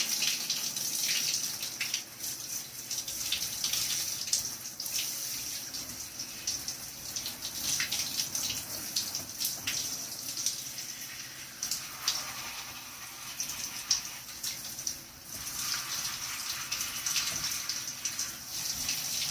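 Steady cool tap water splashing and gushing continuously while rinsing a hand-tied cap wig, close by, with occasional sharper splatters as the stream hits it.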